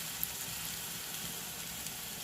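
Sliced small onions sizzle steadily in hot oil for the tempering of a Mangalore-style fish curry, a close, continuous crackling hiss with no talk.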